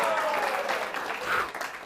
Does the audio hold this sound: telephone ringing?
no